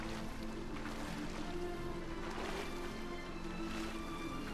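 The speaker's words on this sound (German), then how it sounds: "Wow, Wasser." Steady rushing water in a video game, a constant broad wash of sound with a faint tonal hum underneath filling the whole stretch.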